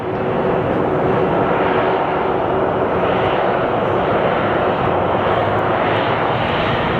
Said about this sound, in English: our Tulsa plane is getting ready for movement, or moving